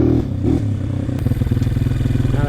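Honda CRF230 dirt bike engine, set up with rich and lean jetting faults, running at an idle that sits too high, a close, steady rapid chugging putter with slight clattery fluctuations throughout.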